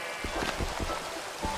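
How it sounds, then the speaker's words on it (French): Rain falling in a video game, a steady patter of drops over a dense wash of noise, brief and close with no talk. "Oh, il pleut."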